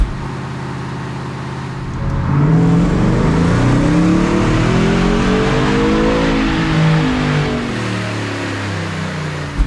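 Stock 2023 Ford F-150 Raptor R with its supercharged engine revving hard on a chassis dyno, a loud steady roar that climbs in pitch through a full pull and holds near its peak before easing off.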